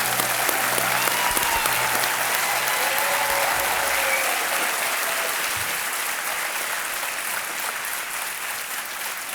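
Studio audience on a television quiz show applauding a contestant who has just won 25 lakh rupees; broad, even clapping from a large crowd fills the room steadily, gradually easing off toward the end.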